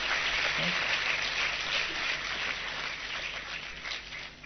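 Seminar audience applause: a dense, continuous wash of many hands clapping, fairly distant and even in level for the whole stretch, with faint voices mixed in.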